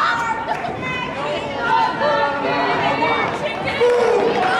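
An indie wrestling crowd in a small venue chatters and shouts in mixed, overlapping voices, a dense close-up murmur of reaction with occasional louder calls.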